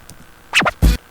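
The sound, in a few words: DJ scratch played in Sony Acid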